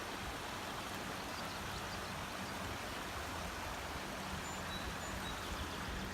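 A wide river rushes with a steady, broad hiss of flowing water, constant and moderately faint with no other sounds standing out.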